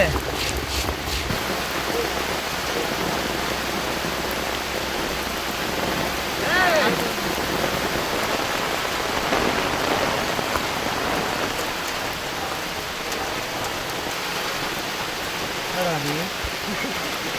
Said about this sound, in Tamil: மழை இங்கே ஊற்றிக்கிட்டு இருக்கு